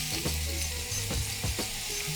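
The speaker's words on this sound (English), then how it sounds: "You just need to let the onions simmer in the oil for a little bit" Onions and garlic frying in hot oil in a pot for Trinidadian corn soup, a steady close crackling sizzle throughout with a few stirring scrapes and low clunks.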